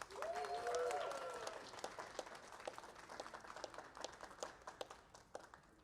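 Wedding guests applaud in a scattered, moderately distant burst of clapping that thins out over several seconds, with a brief tonal sound early on and soft voices mixed in.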